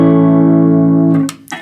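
A sustained electric guitar note or chord from an Epiphone Les Paul Gold Top on the neck pickup, played loud and close through a Vox AC4TV amp with overdrive, compression and reverb pedals, ringing for over a second before being cut off.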